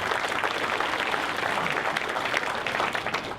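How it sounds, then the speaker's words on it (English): A round of applause from a crowd at a Republican dinner honoring a governor's wife, dense and continuous clapping filling the room throughout. "Let's give her a great round of applause as well."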